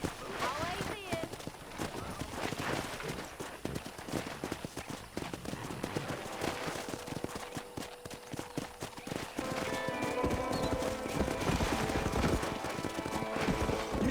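Horses gallop with rapid clip-clop hoofbeats and an occasional neigh in the Western game Red Dead Redemption, steady and fairly loud throughout, with a voice talking over the hooves and a music-like tonal layer building toward the end.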